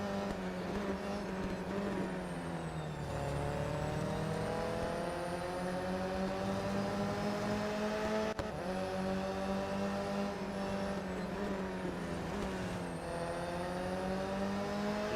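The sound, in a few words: race car engine accelerating in Real Racing 3 video game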